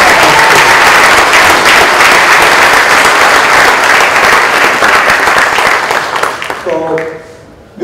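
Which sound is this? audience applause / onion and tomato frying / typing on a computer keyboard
audience applause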